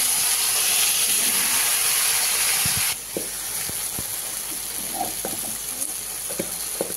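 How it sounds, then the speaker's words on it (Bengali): Okra (bhindi) frying in hot oil in a home kitchen, a dense steady sizzle that drops sharply in level partway through, then continues more softly with scattered light clicks and pops. "এবার আমি ভেন্ডিটা আগে ভেজে নেব, ভেজে তুলে রাখবো"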